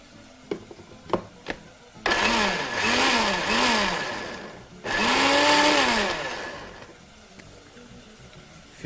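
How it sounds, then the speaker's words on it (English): An electric blender purees tomatoes in a jug, two loud whirring bursts of roughly three and two and a half seconds with the motor pitch rising and falling, preceded by a few sharp knocks and followed by quiet. "And proceed to blend that very gently."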